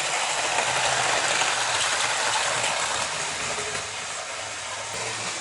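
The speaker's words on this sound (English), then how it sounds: "So here comes the Flying Scotsman now. Look at it go." A Hornby R.855 Flying Scotsman model locomotive running on its track, a steady close whirring hiss of motor and wheels that holds evenly and eases slightly toward the end.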